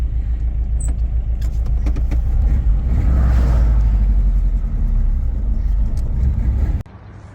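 A 1950 Ford Police Special's old engine rumbles steadily with low, rough revving as it drives along a road, continuous and close, then cuts off abruptly near the end.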